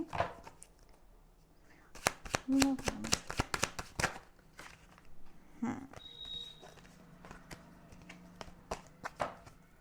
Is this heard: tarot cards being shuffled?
yes